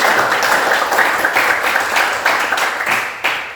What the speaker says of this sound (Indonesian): kita berikan aplaus untuk semua kalian